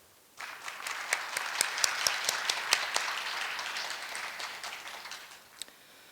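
A room of people at a university retirement ceremony for professors breaks into warm, sustained applause after a quiet start, with individual claps standing out before it tapers off.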